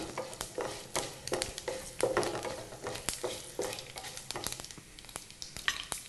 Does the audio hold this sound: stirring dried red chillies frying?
yes